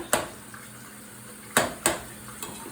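Spatula scraping and chopping ground meat in a pan for a taco cake, a few sharp clanks spaced apart over a quiet background, close and moderately loud.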